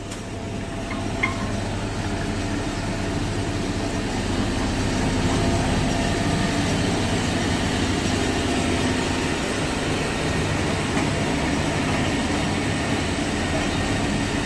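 A motor running steadily, loud and close, with a constant hum and broadband rumble that holds unchanged throughout and has no speech over it.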